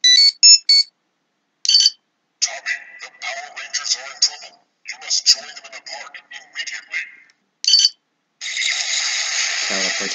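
A Mighty Morphin Power Rangers Legacy Communicator toy gives out a malfunction noise of bursts of electronic beeps and garbled, crackly tones, then a steady harsh buzz at the end, close and fairly loud.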